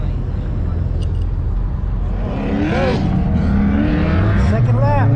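A drift car at Vegas Drift spins its tires hard, its engine droning loud and steady as rising squeals and revs build toward the end, with a voice speaking over it.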